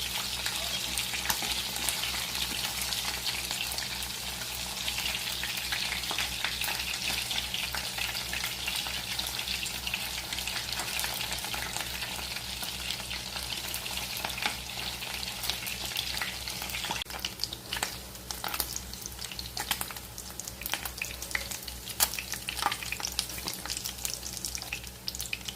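Chicken pieces deep-frying in oil until golden brown for a crispy honey chicken, a dense crackling bubble and hiss that runs steadily throughout, with sharper pops and spatters growing busier toward the end.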